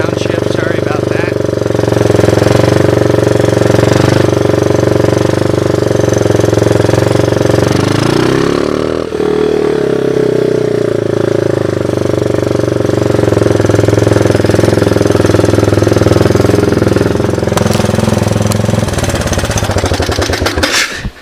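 A Honda 185S three-wheeler with upgraded suspension runs loud and close, its engine droning steadily, dipping in pitch through an awkward downshift midway, then climbing again before a sudden stop.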